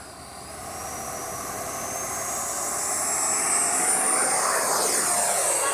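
A Freewing Avanti S V2 RC jet with its takeoff flaps down whines overhead, its high turbine-like tone rising and sweeping as it passes closer, growing steadily louder with no voices.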